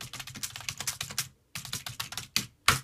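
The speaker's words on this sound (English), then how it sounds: "But I can now type in here." Rapid keystrokes on a computer keyboard come in quick clattering bursts, pause briefly, then resume with a few more sharp clicks. The clicks are close and clear, with no voices.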